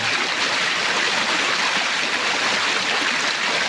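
Muddy water rushes along a creek in a steady, loud, continuous roar of turbulent flow, close by and unbroken, with no voices.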